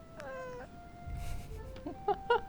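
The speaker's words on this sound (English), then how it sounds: "That meow." A cat meows several times, with a drawn-out call followed by shorter, clipped meows near the end, close and clear over a quiet indoor background.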